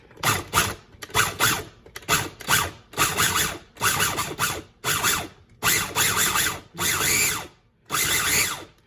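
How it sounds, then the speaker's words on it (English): A blender whirs through birria sauce ingredients in short, loud pulses, about ten bursts separated by brief pauses, close by with no talking. "And we just gonna blend this up, y'all."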